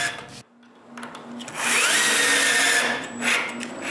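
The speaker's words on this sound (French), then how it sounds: "puis je marque l'emplacement des vis de fixation, puis je les perce" A power drill bores screw holes in a wooden guide block for a homemade wooden band saw. A short pause comes first, then the drill whines loudly and steadily up close before easing off.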